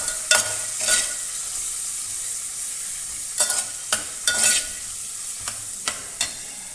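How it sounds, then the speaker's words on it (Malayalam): A spoon scrapes and stirs a tomato and okra curry with turmeric in a hot pan, giving a series of sharp, close scraping strokes at irregular intervals over a low steady sizzle, with no talking. "മിക്സ് ചെയ്യുക നന്നായിട്ട്."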